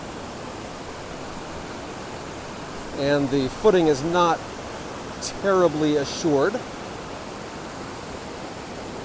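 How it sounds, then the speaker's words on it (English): Broad, constant rush of the Baptism River waterfall at Tettegouche pouring over rock, heard up close, while someone speaks briefly over it midway. "That's a good amount of water flowing over this."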